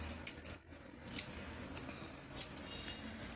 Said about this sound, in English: I am giving little cuts on the paper.